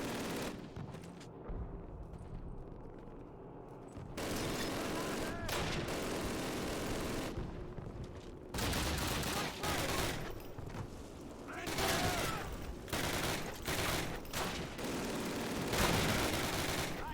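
Dense gunfire rattles from many directions in the 2003 Call of Duty D-Day airborne mission, sustained bursts and shots overlapping loudly for most of the stretch with brief lulls, a voice speaking now and then underneath.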